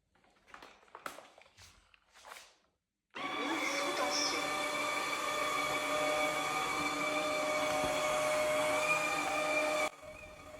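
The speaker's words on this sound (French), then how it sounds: "je sors mon aspirateur de chez Proscenic" A Proscenic vacuum cleaner runs in a kitchen after some brief handling clatter. Its steady, loud whine starts abruptly and holds level for about seven seconds, then cuts off.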